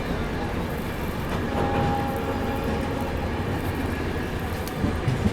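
Trains pull out in parallel from Yesvantpur Junction, one of them the Palace Queen Humsafar Express behind a diesel locomotive, making a steady, loud rolling rumble with wheel and carriage noise that continues without a break.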